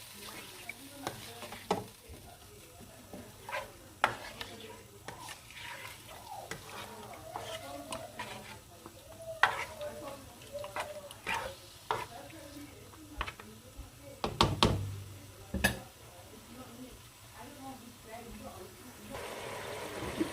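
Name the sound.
frying chicken for karahi in a pan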